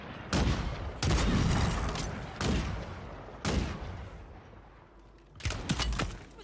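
Gunfire shot through a wall in Warzone 3 on Rebirth Island, five separate loud bursts of rapid shots with short gaps between them, close and sharp.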